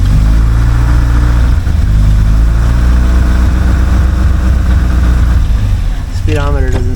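A 1976 Alfa Romeo Spider engine droning loudly and steadily while driving, a rich low-pitched hum holding constant before a rising rev near the end.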